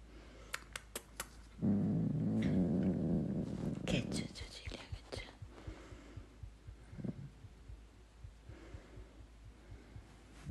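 A cat purrs up close as a low, steady rumble for about two seconds, then fades into quieter breathy throbbing with scattered clicks and rustles.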